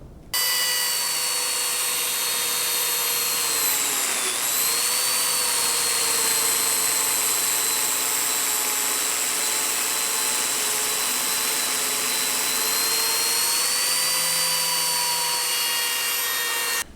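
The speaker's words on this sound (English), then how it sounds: "I'm going to take the machine, I'm going to plunge in starting here, and then create a groove going all the way to the other end with the Zeta P2" A Lamello Zeta P2 joiner plunges into wood and cuts a groove along the workpiece, a loud, steady high-pitched whine that runs without pause, with a brief pitch dip near the start as the blade bites.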